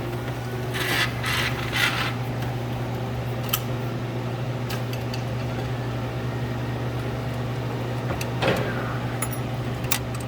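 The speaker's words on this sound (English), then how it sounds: "take an 11mm wrench, put it on the nut here, holding down our ground wire, and just loosen that up" An 11mm wrench works loose the nut holding a ground wire on an older machine, giving faint scattered metallic clicks and scrapes over a constant low mechanical hum.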